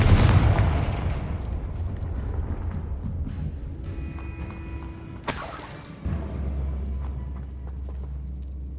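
A Confringo fire spell exploding in Hogwarts Legacy, opening with a heavy booming blast that fades into a rumbling tail, followed by a sharp crackling burst about halfway through and then a low roar.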